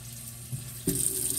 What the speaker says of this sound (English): let's get this roast in here and brown it. Oh yeah, I hear it sizzling.